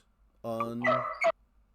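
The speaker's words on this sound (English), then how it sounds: "until then, we'll just have a barking dog" A dog gives a short bark-like yelp, with a couple of brief tonal cries in quick succession, close and fairly loud, then quiet.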